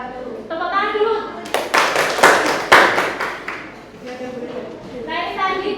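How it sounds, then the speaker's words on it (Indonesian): Audience clapping hands after a school group's poster presentation, a burst of loud, close claps lasting a few seconds, with people talking before and after it. "Tepuk tangan dulu."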